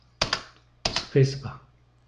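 Two separate clicks of a computer keyboard's space bar while modeling in 3ds Max, each a short close tap, followed by a brief hum and a faint voice sound.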